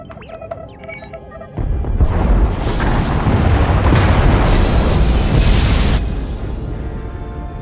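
Pod bays blowing up in a SWTOR space scene: a sudden heavy boom followed by several seconds of loud, rumbling explosion and debris roar that slowly fades, with game tones before it.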